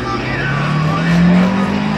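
A race car at Langley Speedway holds third gear, its engine droning loud and steady with a rising whine, tires faintly hissing beneath.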